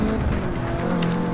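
Mazda MX-5 racing at Watkins Glen in Forza 6: steady buzzing engine drone at constant pitch, close and loud, with a brief tire squeal near the end.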